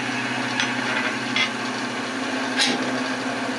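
A freshly sharpened David Ellsworth bowl gouge cuts the inside of a segmented wooden bowl on a lathe, giving a steady close rasping scrape over a constant motor hum, with a few sharper catches.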